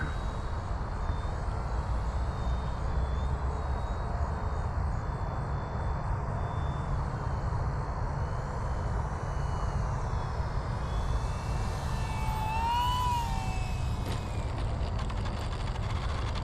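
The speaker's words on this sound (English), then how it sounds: "Boy, easy flying plane." An Arrows Bigfoot 1.3 m STOL radio-controlled tail-dragger plane flies at a distance, its electric motor giving a steady thin whine that rises and bends in pitch near the end as it manoeuvres.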